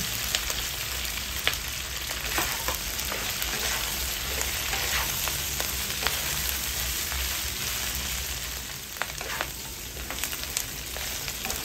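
Garlic frying in a pan while pork dinuguan is cooked, giving a steady close sizzle and crackle with light stirring throughout, no voices.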